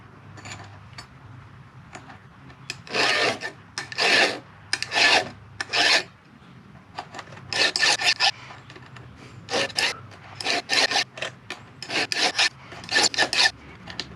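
A hand file rasps across a Stihl chainsaw chain tooth in repeated close, loud strokes, each drawn back against the cutter, with brief pauses between groups of strokes.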